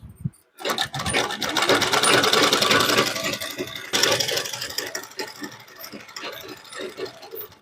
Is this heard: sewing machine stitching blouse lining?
yes